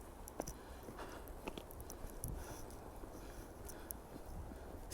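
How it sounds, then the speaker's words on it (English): Icy snow crunches underfoot on a Brooklyn street after a blizzard, with soft, irregular crunching steps heard faintly against a low outdoor background. "can you hear that? Ah, that's the ice. Crunchy."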